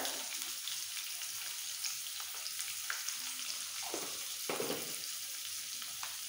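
Potato pieces frying in oil with salt, turmeric and red chili powder, a soft continuous sizzle with occasional stirring clicks, fairly quiet and steady, no talking.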